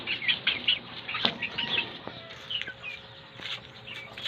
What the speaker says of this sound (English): Oh, my chickens, they are asking for food.